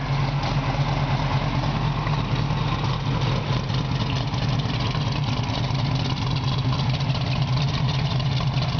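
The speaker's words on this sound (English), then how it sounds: "It's got a nice little mild cam sound to it." A 1959 Chevrolet Corvette V8 with a mild cam, long tube headers and dual exhaust idles close by with a steady, slightly lumpy rhythmic burble, the cam lope pulsing evenly throughout.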